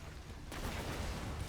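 A Borderlands weapon called the Storm, a Pearlescent gun, fires: after a quiet moment a sudden broad explosive burst erupts and keeps roaring loudly for the rest of the moment.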